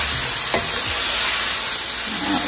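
Garlic sizzling over medium-high heat in a hot pan for slow cooker pot roast, a loud, dense, continuous hiss with a few faint stirring scrapes underneath.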